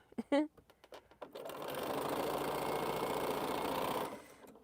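Sewing machine stitching quilt rows together runs in a steady, even mechanical whir for a few seconds after brief handling noises and a short voice at the start.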